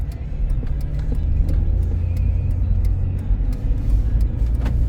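A 2010 Jeep Grand Cherokee with a 3.7 engine pulls away, a steady low engine drone building from inside the cabin with faint rhythmic clicks over the road rumble.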